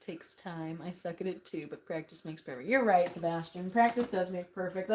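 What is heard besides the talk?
None of the usual background noises is heard.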